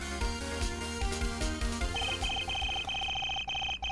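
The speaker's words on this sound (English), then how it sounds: "Let's sound the clock here." A talking clock in the Phoenix Wright: Ace Attorney video game sounds in a courtroom scene, playing a short electronic melody followed by a string of evenly spaced high beeps, fairly faint and alone.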